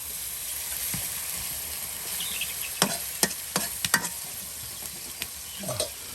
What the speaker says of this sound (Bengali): এই যে আপনার পেঁয়াজ কুচিগুলো কিন্তু একদম তেলে ভেজে নেওয়া হচ্ছে